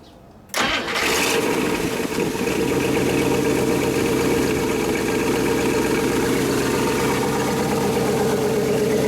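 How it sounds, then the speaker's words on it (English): A 1960 Buick LeSabre convertible engine cranks briefly, catches and settles into a loud, steady idle with an even low rumble, close by and alone. "Nice little idle on her."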